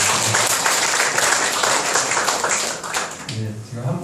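Church congregation applauding during a Korean service, dense clapping filling the clip and fading toward the end as a voice begins speaking.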